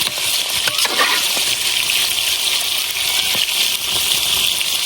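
Beef sautéing in oil in a pan during Bengali home cooking, a loud steady close sizzle and crackle with occasional stirring scrapes, no voices.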